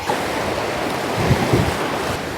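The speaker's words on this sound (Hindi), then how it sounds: "उधर से सारे झरने आते हैं और इस झरनों से पानी कुछ इस तरीके से आता है" Water from waterfalls rushes in the Valley of Flowers in Uttarakhand, India, a loud, steady broadband roar of flowing water with some wind buffeting the microphone, no voices.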